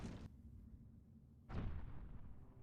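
Cannon shots boom in the Ballerburg artillery game, two muffled blasts with low rumbling tails, the second starting about a second after the first fades, faint overall.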